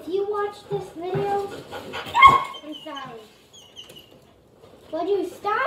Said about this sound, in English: Would you stop it, dog?